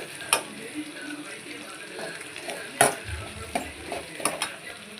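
Chopped onion and a small piece of tamarind are stirred and fried in a pan for tomato onion chutney, with soft sizzling under scattered spoon scrapes and clinks against the pan, close and moderately quiet.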